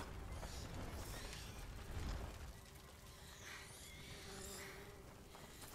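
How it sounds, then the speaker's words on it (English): Insects buzz steadily in the ambient soundscape of the video game A Plague Tale: Innocence, a soft continuous drone of bees and flies with faint creaks and mechanical clicks around it. "And bees and flies."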